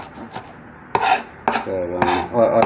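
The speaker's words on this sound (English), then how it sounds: "then I'll do small diced" Potato being diced on a cutting board for curry puff filling, four or five sharp knife chops spaced about half a second apart, close, no talking.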